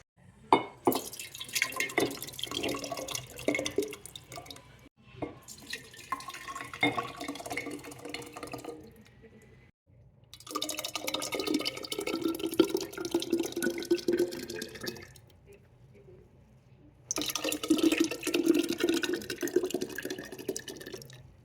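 Water pours into two half-gallon glass mason jars in three separate runs, splashing and rising in pitch as each fills, with quiet pauses between.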